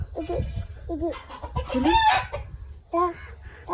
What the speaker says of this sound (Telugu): కోళ్ళు చూసావా అలా వస్తుంది?